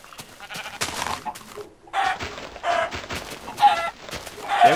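Sheep in the Minecraft video game bleat several times in quick succession, mixed with clucking chickens and other farm-animal calls, loud and close.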